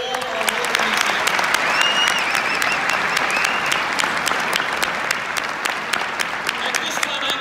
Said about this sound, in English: A round of applause for all our award champions.